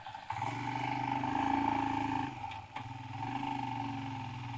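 A motorcycle running smoothly after its second service, engine droning steadily with a clear tonal hum, easing off briefly mid-ride before picking back up, close and alone.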